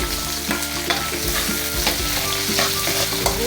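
Garlic sizzles loudly in a hot pan on a small home kitchen stove, a dense continuous crackle broken by a few stirring scrapes, close up and with no voices.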